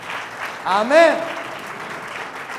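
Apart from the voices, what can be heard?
audience clapping in praise at a church sermon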